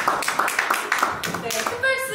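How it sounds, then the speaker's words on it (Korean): Audience applause for a speaker at a Korean ESG presentation event: a burst of hand clapping with distinct claps at the start, quickly thinning out while a voice speaks over it. "큰 박수 부탁드리겠습니다."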